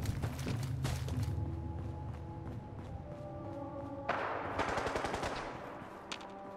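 Bursts of automatic gunfire and single shots from a battle in the video game Fallout 4, rapid rattling volleys and sharp cracks mixed with thumps, fairly close and loud against a droning game backdrop.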